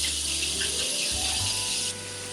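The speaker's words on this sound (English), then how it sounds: "let us go ahead and wash our hands." Tap water running at a kitchen sink while hands are washed before cooking: a steady, close hiss of flowing water that stops abruptly near the end, leaving a low background hum.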